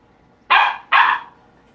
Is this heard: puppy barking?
yes